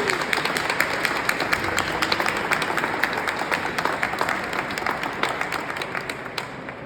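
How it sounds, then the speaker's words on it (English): Audience applause at a Rhode Island mental healthcare advocacy gathering, a dense, steady crowd clapping that holds evenly for several seconds at moderate loudness. "I think we should give them a round of applause to show our appreciation."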